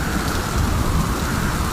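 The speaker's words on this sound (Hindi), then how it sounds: "बाहर बारिश तो देखो कितनी तेज है।" Heavy rain pours down in a dense, constant roar, loud and close with no breaks or voices.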